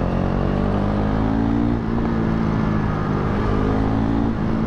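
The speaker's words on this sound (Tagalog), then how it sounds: "Medyo naririnig akong backfire." A KTM RC 390 motorcycle fitted with a new exhaust pipe runs close and loud, its engine a steady, dense drone with a slight dip partway through and no distinct pops.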